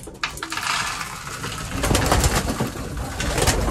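Pigeons coo softly and continuously inside a pigeon loft, layered over rustling and a constant background hum.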